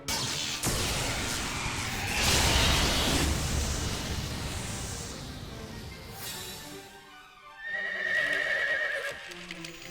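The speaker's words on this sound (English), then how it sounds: "Horses!" Horses whinny loudly and hooves clip-clop, with sweeping whooshing effects around them and a final shrill neigh near the end, no talking.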